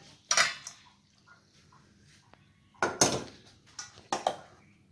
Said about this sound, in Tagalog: I'll mix it here, guys, with my salad